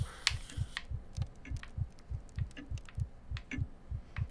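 A looping heartbeat sound effect in the horror video game Dementia: steady low paired thumps repeating about every half second, with faint clicks and rustles in the background.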